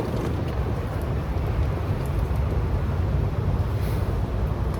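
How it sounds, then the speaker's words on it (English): Steady wind blows outdoors at a woodland tarp camp, a continuous, fairly loud low roar with gusty buffeting close to the microphone and no speech. "It's quite windy."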